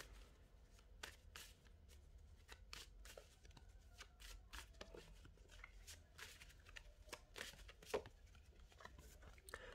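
Tarot cards shuffled by hand before a reading, a steady run of soft riffling flutters and slaps, close and quiet, with no talking.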